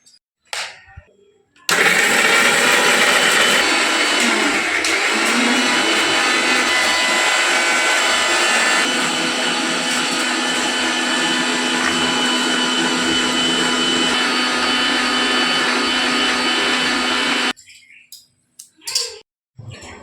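Kitchen mixer grinder running steadily and loudly for about fifteen seconds while grinding mustard seeds and cashews into a paste for prawn malai curry, with brief clatter before it starts and after it stops.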